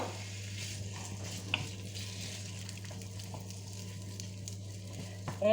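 Meat frying in hot oil gives a faint, steady sizzle under a low hum, with a couple of brief stirring clatters and a soft voice near the end.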